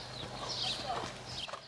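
Horse hooves clip-clop at a walk as a mare is led around a dressage arena, a soft, fairly steady rhythm of light footfalls amid outdoor ambience.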